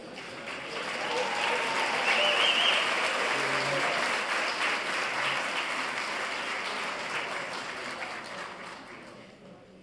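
Sustained applause fills a banquet hall at a bar association judges' night and awards dinner, swelling to a steady wash of many hands before tapering off near the end.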